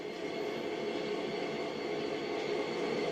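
A train rumbles steadily in the Train Sim World 2 railway simulator, a continuous, even rolling drone at moderate loudness with no talk.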